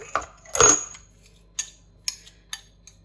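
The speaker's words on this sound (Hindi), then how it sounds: "बीच बीच में से निकालने और इसको अच्छी तरह मिक्स कर लेंगे" Utensils clinking against a bowl while bread and egg mixture is mixed, with a few short sharp metallic taps spaced apart and one longer scraping clatter near the start.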